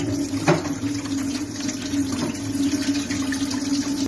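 Basmati rice is rinsed in a bowl under running water, a steady close splashing and pouring with small sloshes and clinks throughout, with no voices.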